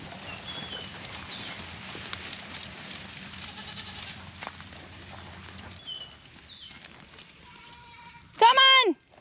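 A goat on a homestead lets out a loud, wavering bleat near the end, following quieter distant animal calls and faint outdoor background noise.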